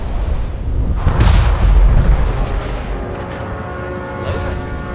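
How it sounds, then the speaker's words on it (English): Fireworks effect in the online fantasy game Mortal Online 2, a sustained loud rumbling of booms and crackling bursts swelling over the first two seconds, then easing into a lower, steady roar with a final burst near the end. "It's just fireworks. It's epic, absolutely epic."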